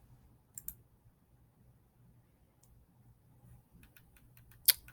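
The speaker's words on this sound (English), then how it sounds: "We're going to click that blue button" A mouse button clicks in Google Docs, a sharp isolated click standing out near the end against faint keyboard-like ticking and low room hum; a softer click pair comes earlier.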